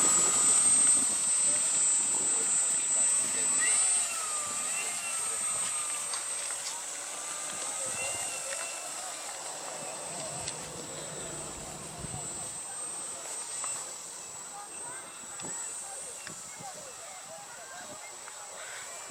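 Radio-controlled model aircraft engine at an outdoor airshow, a distant steady drone that fades slightly over time, with voices and outdoor noise around it.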